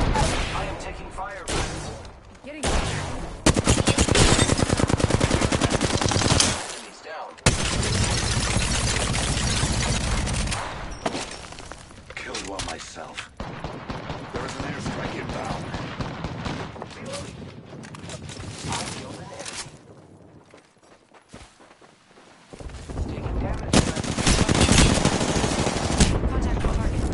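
Heavy automatic and single-shot gunfire in the video game Apex Legends, with loud sustained bursts and brief lulls, mixed with in-game voice callouts and talk.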